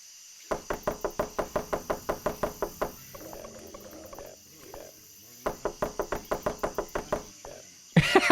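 Rapid knocking on a door in the video game NORCO, sounding as two quick bursts of about a dozen sharp raps each, with a quieter rustling pause between them and a louder thump at the end.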